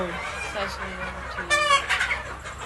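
Free-range desi chickens at a poultry farm in Multan cluck and squawk near the listener, with a louder burst of clucking partway through over a murmur of background voices.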